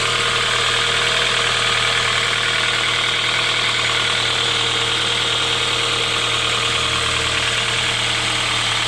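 Engine of a 2014-2016 Kia Soul idling steadily, a loud continuous hum and vibration with an even rhythm throughout, close up and with no talking.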